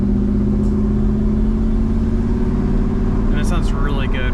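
A 1992 Mercedes-Benz 500SL with an M119 V8 and modified exhaust runs with a deep, steady engine rumble throughout while someone talks over it.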